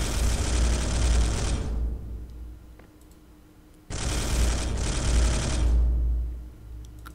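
Gunfire in the remake of Space Hulk comes as two long, loud, rapid automatic bursts, each lasting a couple of seconds and separated by a quieter gap holding faint clicks.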